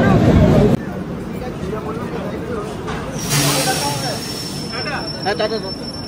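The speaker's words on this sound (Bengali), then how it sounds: "বর্ধমান জংশন থেকে ট্রেন ছাড়লো" The Darjeeling Mail train departs Bardhaman Junction at night with a steady low rumble and clatter, a thin high squeal of wheels rising midway, with brief bursts of noise.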